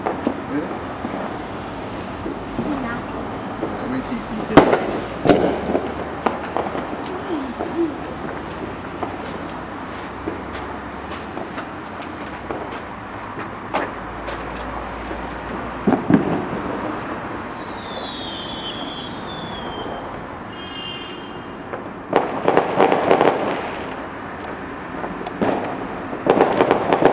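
Fireworks launched into the sky on Bonfire Night outdoors, sharp bangs and crackling bursts at intervals with a whistling rocket, heard amid people talking and a breezy background.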